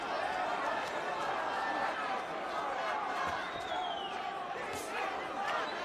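A Puerto Rican crowd at a WBC light welterweight title boxing match roars and chants continuously, a dense, loud wash of many voices throughout the round.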